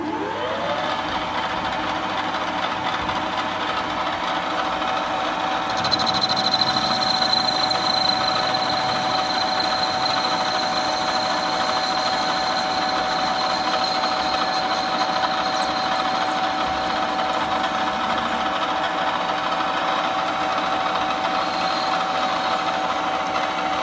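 A centre lathe facing off a metal workpiece runs steadily throughout, a loud continuous motor whine with a sustained cutting tone that brightens partway through, with no talk.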